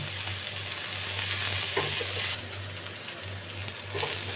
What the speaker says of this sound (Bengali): পেঁয়াজটা আমি একটু নেড়ে নিই আগে।